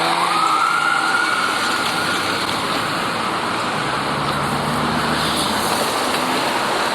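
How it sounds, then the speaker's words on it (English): An ambulance siren wails along University Avenue in Toronto's Hospital Row, sweeping up and down over steady street traffic noise and holding loud throughout without any talk. "Oh, got an ambulance, so I'll pull over and let it cross."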